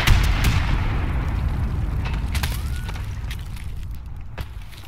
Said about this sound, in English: I'm gonna throw a grenade over there